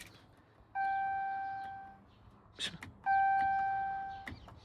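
Two steady electric whines, each lasting about a second with a soft clunk between them, from the fuel pump priming nearby on a Chrysler 300 fitted with a Hellcat engine.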